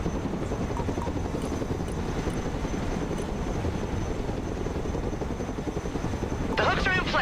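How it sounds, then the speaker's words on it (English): Cargo helicopter in the war game Broken Arrow, a steady close rotor thrum and turbine whine droning without a break, joined near the end by a brief higher mechanical chatter. "Let's go and recover it with our helicopter."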